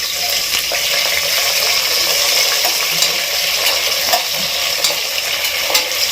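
Two tomatoes tossed into a pan of sizzling onions and green chilies while cooking veg pulao, giving a steady, loud frying hiss with light stirring clicks throughout.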